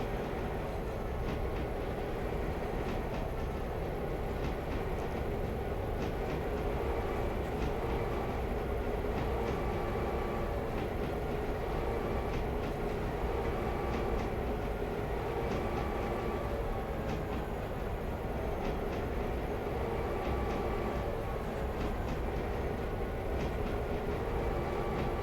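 A train engine from the Railroader video game rumbles steadily throughout, a dense low droning with faint rhythmic rail clatter, continuous and unchanging with no talking.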